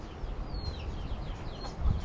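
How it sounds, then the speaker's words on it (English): Three roosters shut in a farm coop give short clucks and a few thin calls, moderately close, over a steady rustling background with no talking. "I got the 3 roosters in here."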